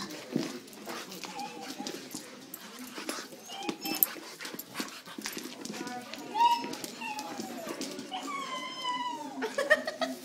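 Two pit bulls at play trade growls, whines and yelping howls in an uneven, rising and falling stream, fairly close, with people talking now and then in the background.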